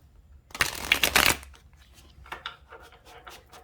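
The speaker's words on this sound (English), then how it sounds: "Give it a really good shuffle." Tarot cards being shuffled by hand, a dense close riffle burst of crisp flutters followed by softer scattered slides and taps as the deck settles, with no talking.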